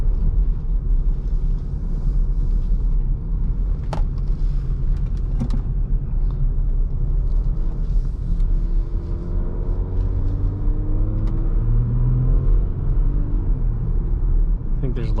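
Jeep Grand Cherokee EcoDiesel fitted with an Injen intake, heard from inside while driving: a steady, loud low-frequency engine and road rumble that holds throughout, with a few brief knocks and a voice speaking over it.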